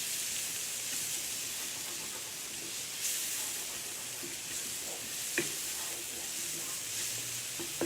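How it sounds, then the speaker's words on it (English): Garlic and onions frying in mustard oil, a steady close sizzle and hiss throughout with a few scraping stirs, no talk. "You really want to fry out the garlic with the mustard oil first. Then the onions go in."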